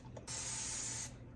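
One steady burst of cleaning spray on a stand mixer's bowl and parts, close and fairly soft, lasting under a second.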